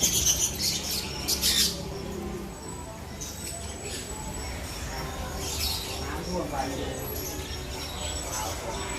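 Young ornamental birds, freshly hatched and barely feathered, chirp under a heat lamp at a busy bird market in Thailand; faint high chirps and squawks scatter through steady crowd noise and background voices.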